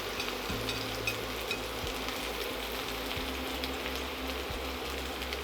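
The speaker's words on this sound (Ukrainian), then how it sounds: "І додаю на пательню гриби. Їх я буду смажити на великому вогні." Mushrooms frying in oil in a hot pan over high heat, a steady close sizzle and crackle with a low hum underneath, no talking.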